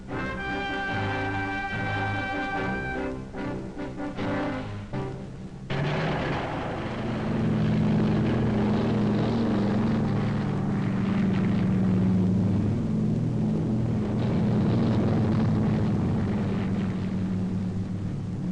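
Transport aircraft carrying paratroopers pass overhead in an old wartime film soundtrack, a loud continuous propeller drone that shifts and deepens midway, steady and sustained throughout with no voices.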